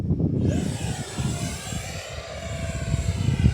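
Steady whine of a small Arrows T-33 50 mm electric ducted-fan RC jet running on a 4S battery, flying in a small outdoor area, a continuous high tone with rumbling wind noise and no talk.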